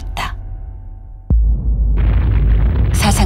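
Explosion effect in a sci-fi game trailer: a sudden heavy boom hits after a quiet hum, followed by a sustained loud rumbling roar with crackling debris.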